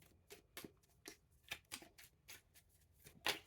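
Oracle cards being shuffled by hand, a series of crisp riffling and slapping bursts at an irregular rhythm, close and quiet, with no talk.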